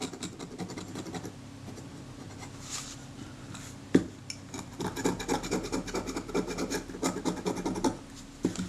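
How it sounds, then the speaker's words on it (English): The back of a scalpel blade scrapes the surface of a Kodak Retina IIIc camera, lifting off lumps and bumps. It gives dry, rasping strokes up close, with a sharp tap near the middle and a quicker run of scratching afterward. "I'm just using the back of my scalpel blade here to scrape that surface"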